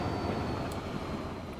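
A Class 66 freight locomotive in Freightliner livery passes in the railway game Transport Fever 2, giving a steady, loud rumbling roar with a faint whine on top that holds for the whole stretch, with no talk.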